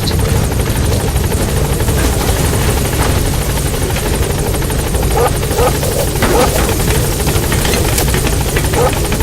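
Support helicopter Pequod arriving at a landing zone, its loud, steady rotor chop and engine drone filling the whole stretch close by, with no pause.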